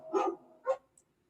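A dog gives two short barks close by, the first fuller and the second clipped, followed by quiet.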